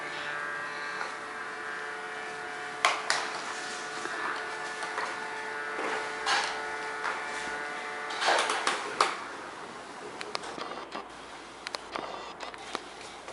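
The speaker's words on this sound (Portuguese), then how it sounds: "Agora eu vou passar em outro lugar o aspirador" A vacuum cleaner's steady motor whine hums on for several seconds, with scattered clicks and knocks, then cuts out, leaving a few sharp taps.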